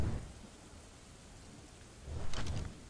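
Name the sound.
rain and thunder in the video game ARK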